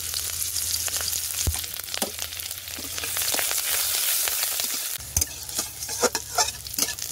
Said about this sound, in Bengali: একটু পেঁয়াজ কুচি, কয়েকটা কাঁচা লঙ্কা চেরা।